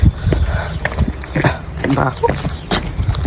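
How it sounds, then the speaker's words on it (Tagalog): Donkeys move along a street in Santorini, Greece, with soft hoof clip-clops under close talking and outdoor bustle. "Ito, mayroon pa mga donkey dito."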